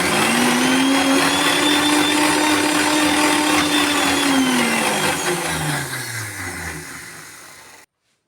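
A mixer grinder whirs loudly as it blends semolina and coconut batter, a steady high motor drone that slows and drops in pitch as it powers down before stopping abruptly.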